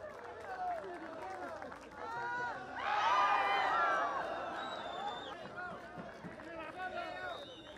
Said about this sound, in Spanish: palmas para Jason Casallas, el líder de la clasificación por puntos